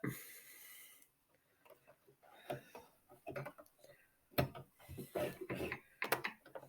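A sewing machine stitches fabric triangles together with a back stitch, giving quiet, intermittent bursts of mechanical clicking and whirring separated by short pauses.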